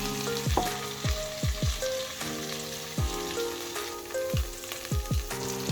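Pieces of lamb for a stew sizzle and fry in a pan, a loud steady crackle with dull thuds and knocks scattered throughout, and no voices.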